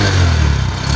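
A 2022 Honda Livo 110 disc-brake motorcycle's engine runs close up, a loud, low steady idle thrum with a slight mechanical clatter, alone and very brief.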